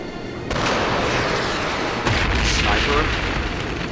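A sniper rifle shot from the Trails of Cold Steel video game cracks out sharply, followed by another loud report about a second and a half later, both sitting over continuous game background sound.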